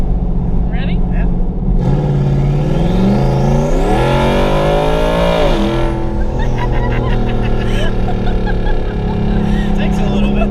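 800hp turbocharged Mustang at full throttle, the engine note climbing loudly through a gear with a whining turbo, then settling back into a steady drone, with people talking inside the car.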